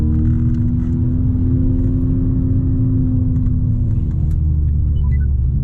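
A Volkswagen Scirocco climbs a narrow driveway, its engine a continuous close rumble with a gently rising drone throughout.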